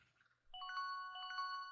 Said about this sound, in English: The alarm on Diego's phone was ringing!